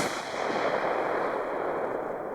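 Consumer fireworks from a Biedronka New Year's Eve set give off a steady, loud, dense hissing crackle that lasts throughout, with no separate bangs.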